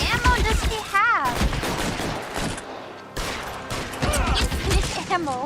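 Gunfire in the video game L.A. Noire crackles in rapid bursts of shots, loud and close, with a voice talking between and over the volleys.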